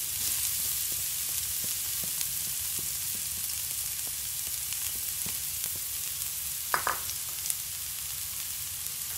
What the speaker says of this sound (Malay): kita tumis dulu bawang merah, bawang bombay, sama bawang putih